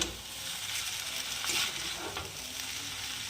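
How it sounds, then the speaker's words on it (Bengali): Fried potatoes sizzle steadily in a pan while being stirred, with a soft scrape and clink of the utensil near the middle; quiet and close, with no talking. "এবার নাড়িয়ে নেব"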